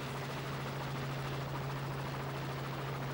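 Helicopter hovering over an ATV race, filming a two-wheel-drive heat, giving a steady low rotor drone with a constant hum, distant and faint, no talk.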